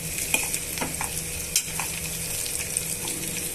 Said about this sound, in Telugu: ఇప్పుడు ఉల్లిపాయ ముక్కలు పచ్చిమిరపకాయ ముక్కలు బాగా వేగిపోయాయండి.